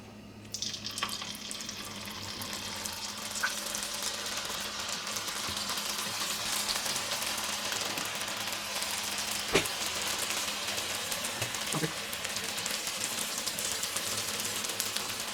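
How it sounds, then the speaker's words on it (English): Battered cauliflower pieces for honey cauliflower Manchurian frying in hot oil, a steady, soft bubbling sizzle that runs evenly throughout, with a few faint clinks of a utensil partway through. "dipping the second round into the oil"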